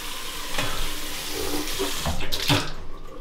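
Water running steadily from a bathroom tap during mouth rinsing after tooth brushing, close and fairly loud, with a few small splashes and sloshing sounds.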